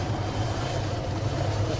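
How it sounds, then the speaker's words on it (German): UH-80 Ghost Hawk helicopter in the game Altis Life, a steady low rotor-and-engine drone holding constant and fairly loud throughout, with no talk. "Fliegt mit einem UH-80 Ghost Hawk."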